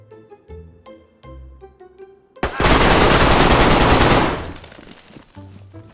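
A loud, sustained burst of rapid machine-gun fire in the video game DayZ lasts about two seconds, with short talk before and after it.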